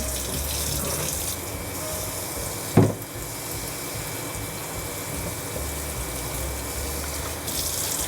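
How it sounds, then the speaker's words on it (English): Hot water poured into a pan of vegan mushroom alfredo sauce, a steady pouring rush running the whole time with one brief clunk near the start. "We'll use hot water."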